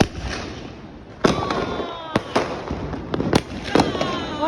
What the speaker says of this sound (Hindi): 120 स्काई शॉट्स इसमें है।